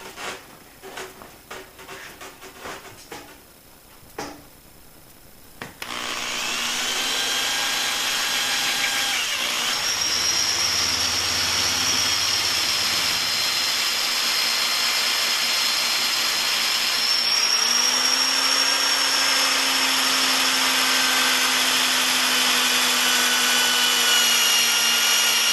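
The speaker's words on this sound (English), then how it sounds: "What I did is I just let the drill do the work." A power drill whines steadily and loudly for a long stretch while boring through a plastic windshield on a boat hull, its pitch shifting slightly, after a few seconds of quieter clicking and handling.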